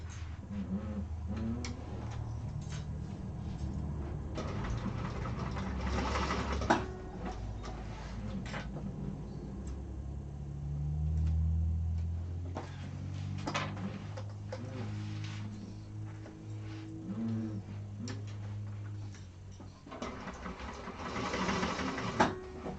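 A sewing machine basting fabric in place runs in a steady, close, mechanical whir with rapid ticking, through several long stretches and brief pauses, with no talking.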